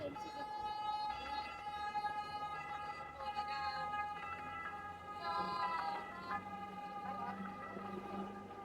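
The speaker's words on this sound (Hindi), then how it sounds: "एम्बुलेंस भी बोट की गुजरी है" A passing ambulance boat's wailing siren sounds at a moderate distance on the Venice canals near the Rialto, its pitch rising and falling steadily over background noise.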